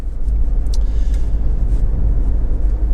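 A Honda CR-V 2.2 i-DTEC S 4x4 diesel driving along a quiet country road, heard as a steady, loud low rumble of engine and road noise from inside the cabin with no breaks.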